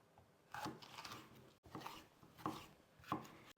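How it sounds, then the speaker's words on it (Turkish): Faint, irregular knife strokes chop red peppers on a board at close range: soft thuds and scraping slices, with a brief pause partway through. "Bunları da küçük küçük doğrayacağız."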